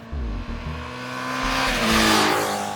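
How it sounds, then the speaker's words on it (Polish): A Honda CBF 600N motorcycle engine revs hard out of a corner, a brief gear-change dip and then a rising, steadily building howl, close and alone. "wychodząc z tego zakrętu kręcimy ten motocykl do oporu"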